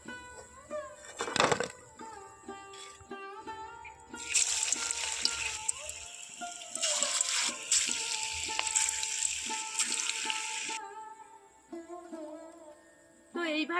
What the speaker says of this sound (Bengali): এইভাবে কিন্তু আমি সবগুলো উল্টে পাল্টে ভেজে নেব